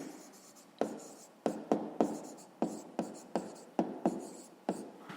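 A pen scratches on paper while a math exercise is written out by hand, in short repeated strokes with sharp onsets at a steady, uneven rhythm, close and quiet.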